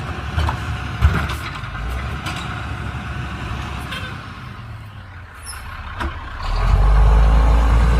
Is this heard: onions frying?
no